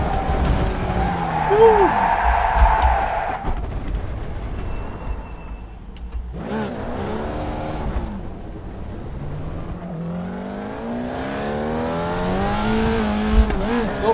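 A Formula Vee race car in the iRacing sim slides sideways, engine droning and tires squealing, with a rising rev tone and further screeching passes, while someone talks and whoops over it.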